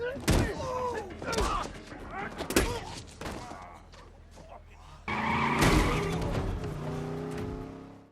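Cars skid and crash during a film car chase: screeching tires and several heavy thuds, with a loud burst of engine and crash noise midway, all under a narrating voice.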